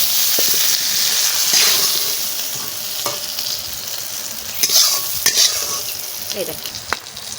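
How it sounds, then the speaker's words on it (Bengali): Shrimp, potatoes and eggs stir-fry together in oil, a steady close sizzle punctuated by several sharp scrapes and clinks of a spatula against the pan. "চিংড়ি মাছ আলু ডিম সব একসাথে ভাজা করে নিচ্ছি তেল দিয়ে দিচ্ছি"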